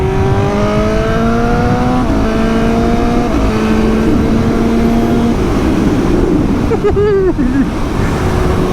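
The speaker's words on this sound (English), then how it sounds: "We're going to rattle past in third gear and go up to the box again." A Suzuki GSX-S 750 motorcycle with a quickshifter passes in third gear, its engine note climbing in steady rising tones through several upshifts, heard under heavy wind rush and road roar before fading out.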